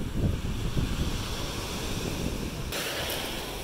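Sea waves washing onto a pebbly beach at a seaside resort in Alupka, Crimea, a continuous rushing surf with wind buffeting the microphone, steady throughout.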